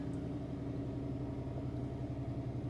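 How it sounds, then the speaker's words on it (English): A 2014 Chrysler 300S idling roughly with a misfire, a low steady rumbling engine note with a subtle uneven wobble, heard close and fairly quiet with no talk. "Rough idle."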